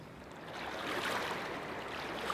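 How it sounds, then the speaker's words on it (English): A clear river flows over stones among granite peaks, giving a continuous soft rushing wash with gentle swells, steady and unbroken with no voices. "Listen to the noise of crystal clear river."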